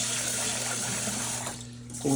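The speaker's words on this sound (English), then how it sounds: "give it a rinse 3 or 4 times until the water's almost clear" Rice being rinsed under running tap water in a kitchen sink, a steady close splashing flow with a brief change near the end.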